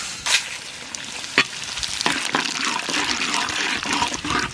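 Whole cumin, dried chillies, bay leaf and radhuni hit hot mustard oil in a Bengali kitchen, a sharp splash followed by steady crackling sizzle with a few pops, close and loud, no talking.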